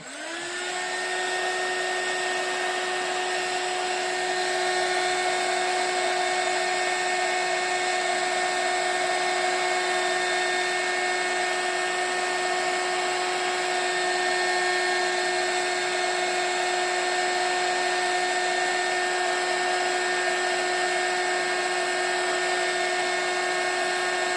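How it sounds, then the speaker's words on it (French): Heat gun warming gold embossing powder for a marbled, glazed-effect card: a steady, loud whirring blower hum with a whining tone, starting up and running continuously without pause, with no talk over it. "Et je chauffe avec le heat gun."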